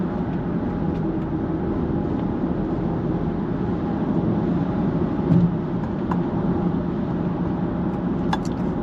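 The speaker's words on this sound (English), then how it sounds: "So let's drop it down a few gears." A Jaguar E-Pace drives at dusk after dropping down a few gears, its engine and road noise a steady, loud interior drone with a brief bump midway.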